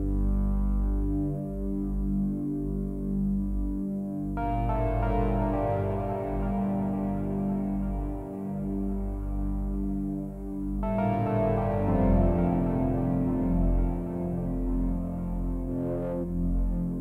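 A Hydra synthesizer holds a sustained, droning low note run through a delay effect on an X32R aux mixbus. It is re-struck twice, and each new attack blends with the lingering repeats in a thick, humming tone with no talk.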